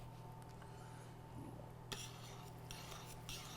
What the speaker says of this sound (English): I always use a fork to fluff the rice up instead of a spoon